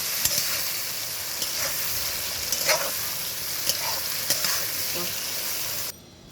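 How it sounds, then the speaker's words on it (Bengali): Six chopped onions frying in hot oil until brown for a dhaba-style spinach chicken, with a continuous sizzle, occasional scrapes and stirring knocks, ending abruptly as the sound cuts out. "এবারে আমাদের পেঁয়াজটাকে খুব ভালো করে ব্রাউন কালার করে কিন্তু ভেজে নিতে"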